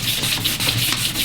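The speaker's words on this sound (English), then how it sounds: "when we sand it in, we're going to go with the grain, just a nice light sanding" Light hand sanding of varnished wood with the grain, a quick series of rhythmic rubbing strokes, close and fairly loud, with no voices.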